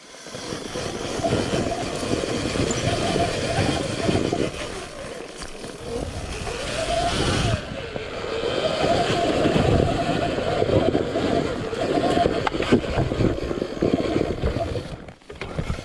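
A Sur Ron Ultra Bee electric dirt bike climbs a rough enduro trail with a sustained, surging motor whine. Knobby tires scrabble and spin over rock and dirt, it eases briefly midway, and wind buffets the close recording.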